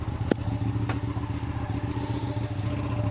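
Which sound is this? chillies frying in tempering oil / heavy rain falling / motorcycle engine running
motorcycle engine running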